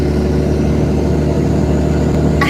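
A truck engine running loud and close, with a steady, heavy rumble that holds at an even level throughout without clear rises in pitch.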